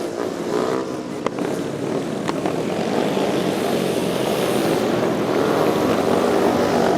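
A racing motor screams past at an IMS Legends Night race, a continuous loud engine drone that swells slightly with a couple of sharp clicks early on.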